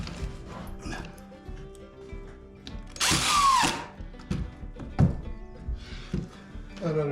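Power drill driving a couple of screws into the bottom of a wooden sheet goods storage unit, with short whirring bursts and knocks amid workshop handling noise.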